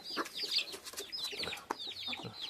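Hens and young chicks cluck and cheep while feeding, a busy cluster of short calls and high peeps close by, fairly quiet overall.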